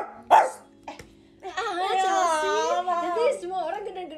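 A voice imitates a dog, giving a sharp bark-like yelp followed by a longer drawn-out, whining howl, loud and close.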